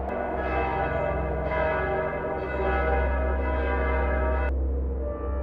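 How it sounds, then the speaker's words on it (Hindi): A temple bell rings on its own with loud, sustained metallic tones that stack and linger, then cut off near the end, with no voices. "अचानक मंदिर की घंटी अपने आप बज उठी।"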